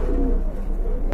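A Lahori pigeon, a female, gives a brief low coo that lasts about a second, heard up close and fairly loud against a light background hum.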